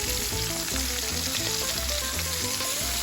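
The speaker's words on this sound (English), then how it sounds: "Everything is roasting very nicely." Lobster tails roast in a brick oven with a continuous close sizzle and hiss under background music.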